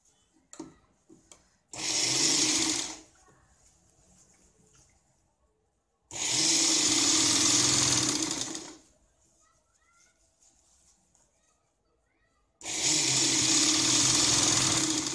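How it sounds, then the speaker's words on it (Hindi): Sewing machine stitching a blouse lining, running in three separate bursts of about a second to three seconds each, with quiet handling noise between runs. "यहाँ से हम सिलाई लगाते हैं।"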